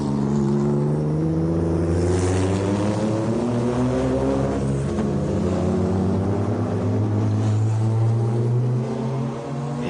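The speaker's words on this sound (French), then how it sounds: "Frank Lagorce qui tente désespérément de remettre en marche cette machine" A Courage Chevrolet prototype race car engine at the 1995 24 Hours of Le Mans, a loud, steady, droning engine note with strong low harmonics that holds for the whole stretch, rising and dipping slightly.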